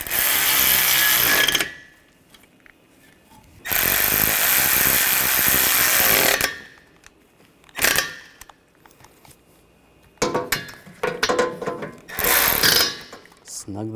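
Power tool bursts tightening radiator mounting bolts on a 2013-2022 Buick Encore 1.4L, several loud whirring runs separated by pauses, close to the mic.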